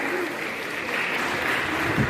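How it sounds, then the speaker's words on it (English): Crowd clapping for a school principal introduced at a formal gathering, a short, even burst of applause with a voice carrying faintly beneath it. "big round of applause"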